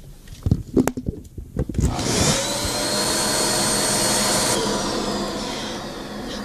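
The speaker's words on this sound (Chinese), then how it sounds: "我们现在拿起手中的吸尘器来吸吸看" A vacuum cleaner starts up after a few knocks and runs with a loud steady roar, sucking talcum powder off a floor, shifting in pitch partway through.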